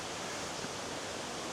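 A waterfall in the Costa Rican rainforest, heard as a steady, even rush of falling water with no breaks, fairly faint and with no voices.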